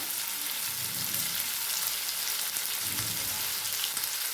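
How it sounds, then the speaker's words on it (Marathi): Eggplant pieces frying in oil in an open pan give a steady, continuous sizzle with soft crackle throughout, close and even, with no voices. "बघा हे जरा पाच दहा मिनटं जरा छान वांगी आपली परतली पाहिजे तेलामध्ये"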